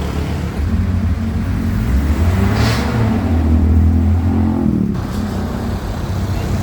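A Mitsubishi Adventure engine revs steadily, a loud close drone that swells in pitch toward the middle and settles back down, with no talk over it.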